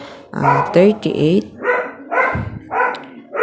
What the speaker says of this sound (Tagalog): Grabe guys yung ingay ng aso.